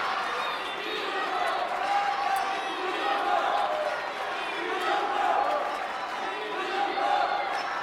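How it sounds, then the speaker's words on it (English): A table tennis arena crowd at a Grand Finals men's final chants rhythmically for a player, a loud sustained wash of voices rising and falling in waves throughout, with a commentator talking over it. "as the crowd chants for Dima, it drowns out the chants for Van Zhendong"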